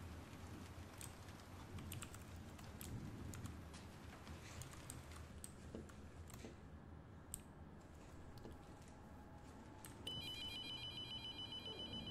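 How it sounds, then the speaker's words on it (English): In the horror video game Abandoned Souls, an old telephone begins ringing inside an abandoned building with no electricity, its trilling ring coming in faintly near the end after quiet clicks and rustling. "Is the phone ringing?"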